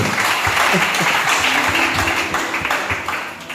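A church congregation applauds the Lord with loud, dense clapping that stays steady for a few seconds and then eases slightly toward the end.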